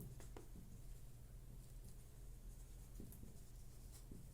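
Marker or chalk strokes on a board during a maths lesson on divisibility, with scattered scratching taps in an uneven rhythm, faint over a low steady room hum.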